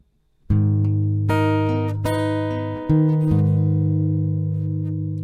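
A few plucked acoustic guitar notes ring out one after another, sustained and clear, forming a slow, simple melody with no talking.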